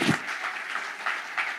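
A crowd at a Central Oregon PubTalk event applauds after a company pitch, giving a short burst of clapping with a few louder swells that stays moderately close and fades quickly.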